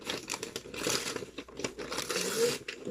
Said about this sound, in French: Je vais déchirer ensuite.